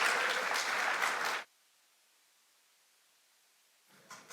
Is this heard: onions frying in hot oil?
no